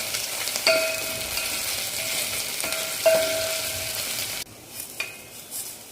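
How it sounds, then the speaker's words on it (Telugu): Curry leaves and tempering seeds sputter in hot oil as a spoon stirs them, striking the pan with a few ringing metallic clinks over a continuous sizzle that drops sharply near the end. "వేసి కొంచెం మిక్స్ చేయాలి."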